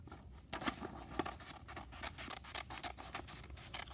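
Scissors snip through paper while cutting out a fish shape with a tail and side fins for a papier-mache craft, giving a series of close, crisp cuts with short pauses between them.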